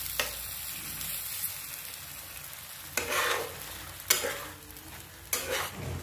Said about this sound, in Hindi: अब इसे हम अच्छी तरह से मिक्स करें